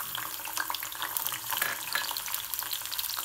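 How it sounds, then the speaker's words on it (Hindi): Steady crackling sizzle of garlic frying in hot oil for a dal tadka, with scattered pops, close up and continuous. "देखिए मैं लहसुन डाल रही हूँ"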